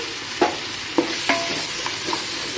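Mutton being sautéed in a pan for mint biryani, steady close sizzling broken by several distinct spoon scrapes and clinks against the pan, no voices.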